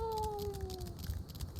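A cat in the video game Final Fantasy XIV gives a single falling meow lasting about a second, clear and close, followed by quiet background.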